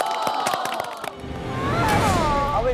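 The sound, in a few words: studio audience applauding and cheering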